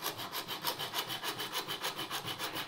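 A hacksaw cuts through a hard line water cooling tube held at an angle in a vise, making steady, rhythmic back-and-forth rasping strokes that sound close and continuous with no talking.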